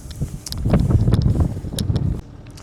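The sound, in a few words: wind blowing outdoors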